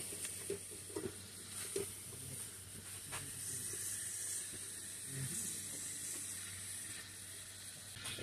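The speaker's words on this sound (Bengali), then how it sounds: "এখন এর সঙ্গে কচুরলতিগুলো দিয়ে ভালো করে নেড়ে চেড়ে নেব।" Arum stolons (kochur loti) stir-fried in hot spiced oil give a steady sizzle and hiss with faint scraping stirs, close and continuous throughout.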